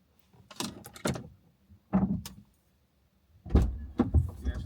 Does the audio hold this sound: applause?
no